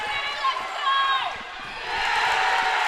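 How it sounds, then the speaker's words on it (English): Crowd cheering and roaring at a men's under-23 Victoria versus Queensland netball match at an indoor netball centre, a broad sustained swell of voices that dips briefly then lifts louder toward the end. "Crowd lifting here at Janaea Netball Centre."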